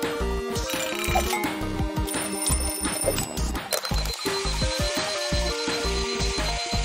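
A mechanical alarm clock rings in rapid, rhythmic bursts over a repeating electronic melody, loud and continuous throughout.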